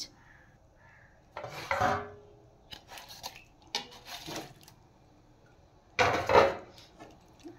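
Potatoes, eggplant and fried boal fish go into a cooking pot in two separate bursts of scraping and clattering. Quieter handling noises fill the gaps between them.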